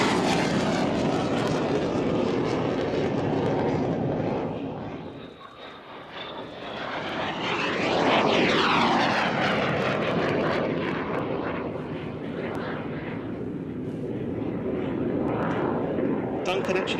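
A jet display aircraft takes off at the Kemble airshow, its engine roar swelling and sweeping past loudly with a strong rushing whine, then easing off, while an announcer talks over it.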